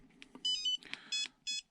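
A Flysky FS-G7P radio transmitter sounds its low-voltage alarm: a few short, high electronic beeps in an irregular pattern, faint and close, with soft handling noise between them.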